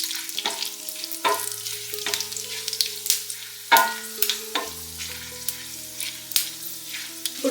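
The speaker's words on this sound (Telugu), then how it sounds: "ఇప్పుడు దీనిలో మనం కొంచెం జీలకర్ర, కొంచెం ఆవాలు, కొంచెం శనగపప్పు వేసుకోవాలి. ఈ తాలింపును మనం వేయించుకోవాలి." Dried chilies, cumin, mustard seeds and chana dal sizzle in hot oil for a tempering, a bright steady crackle broken by sharp clinks of a spoon stirring the pan.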